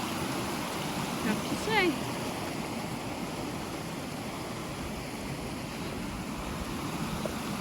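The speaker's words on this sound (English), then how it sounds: "What falls is this? Union Creek. Union Creek Falls." Steady broadband rush of water from Union Creek Falls in Washington, continuous and fairly even throughout, with a brief splash or clatter near the start and a voice speaking briefly over it.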